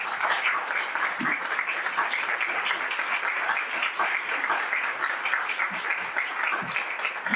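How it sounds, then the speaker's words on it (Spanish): Steady applause from an audience at a book talk honoring two crime-novel authors, moderately loud and sustained, with a few soft thumps scattered through it. "un aplauso grande para las dos"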